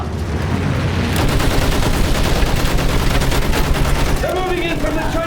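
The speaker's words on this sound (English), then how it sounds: "Use that machine gun." Machine gun fire in the Battlefield 1 video game, dense rapid bursts crackling over a loud rumbling battle background, with a shouted voice partly heard near the end.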